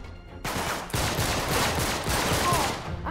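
Rapid gunfire in Uncharted: The Nathan Drake Collection rattles close and loud in a sustained fusillade, kicking in sharply after a brief lull and continuing almost without break.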